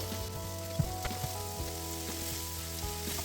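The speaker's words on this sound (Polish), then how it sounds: "Cebulka tylko delikatnie podsmażona, bo to nie chodzi o to, żeby ona była zrumieniona, tylko żeby się delikatnie poddusiła." Onion frying gently in oil in a pan for Kashubian-style herring, a soft steady sizzle with occasional louder crackles and pops, heard alone at close range.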